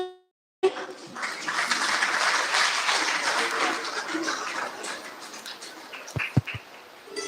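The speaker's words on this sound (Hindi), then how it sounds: "ताली बजाकर इनका स्वागत करें" An audience claps steadily for about five seconds, welcoming people at a Brahma Kumaris stress-free living program in Indore. The applause tapers off toward the end, followed by a few short, sharp knocks.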